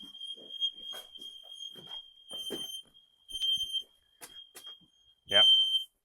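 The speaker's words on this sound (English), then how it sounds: "then all the detectors will trigger for 10 seconds." Interlinked mains hardwired smoke detectors sound together during a test, a steady high-pitched alarm tone running throughout, under bursts of nearby talk and some handling noise.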